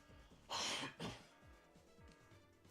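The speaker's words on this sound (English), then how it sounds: "I'm coughing a lot." A man coughs and clears his throat during a Syphon Filter speedrun, a harsh burst followed by a second shorter hack, close and fairly loud over faint game sounds.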